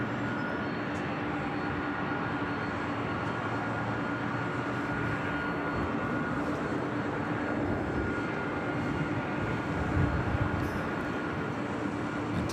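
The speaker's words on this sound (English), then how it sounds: "Followed by ITA, the A350-900 flight heading back to Rome." An ITA Airbus A350-900 jet at Los Angeles airport gives off a steady, moderately distant engine roar with a faint whine, sustained throughout and swelling a little near the end.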